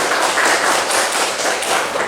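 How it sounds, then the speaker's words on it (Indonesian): Classroom students applauding together: dense, steady clapping that fills the moment at close range and fairly loud, with no speech. "tepuk tangan untuk teman-teman kalian"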